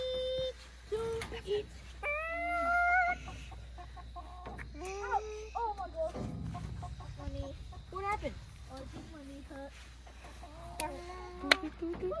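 Young chicks and grown chickens on a small farm cluck and peep with rising, wavering calls in scattered bursts over a low hum, close by, with people talking at times.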